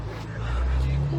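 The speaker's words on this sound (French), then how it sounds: "Et la 310 qui arrive" An Alpine A310 rally car pulls into a rally meet, its engine a low, throaty rumble that swells as it nears.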